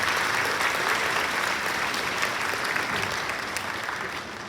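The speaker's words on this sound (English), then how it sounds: "Let's give this group a round of applause." An audience at a May 2025 school awards day ceremony gives a group a round of applause. The clapping is dense and steady, fairly distant, and tapers slightly toward the end.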